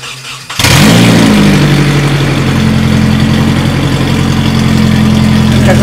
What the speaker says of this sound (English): First start after a couple months.